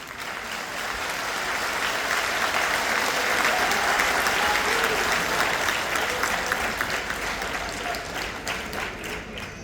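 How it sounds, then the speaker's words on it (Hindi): Sustained applause from a large audience at a spiritual discourse, swelling to a full roar of many hands before gradually thinning out toward the end. "तुम्हारी तालियां कमजोर हैं।"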